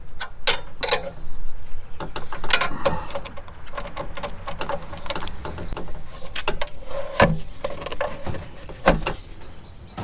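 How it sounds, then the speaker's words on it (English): Bolts on a tube door are tightened with a 4mm Allen key and a 10mm box-end wrench, giving close, irregular metallic clicks, taps and scrapes in scattered bursts, with no talking. "tighten these down with a 4mm Allen head and a 10mm box end wrench"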